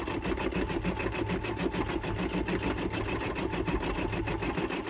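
Embroidery machine stitching a Halloween design, filling in a nose, steady rapid rhythmic needle chatter and motor hum, close and continuous without speech.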